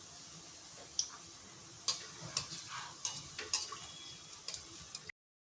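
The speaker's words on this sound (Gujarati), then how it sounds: "તો સેવને આપણે અહીંયા થોડી તળાવવા દેવાની છે." Sev frying in hot oil, a soft continuous sizzle broken by a series of sharp, irregular ticks and pops, fairly faint and close, with no voices.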